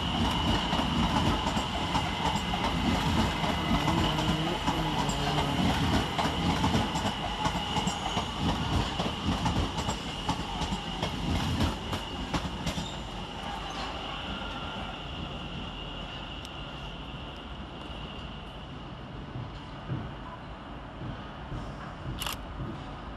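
London Overground train arriving to terminate at London Euston, a steady rumble of rolling carriages with clickety-clack wheel noise and faint squeal, loud and continuous under station ambience, easing slightly toward the end.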